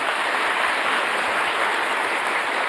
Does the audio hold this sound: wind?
no